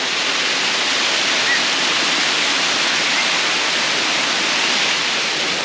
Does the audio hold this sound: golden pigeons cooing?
no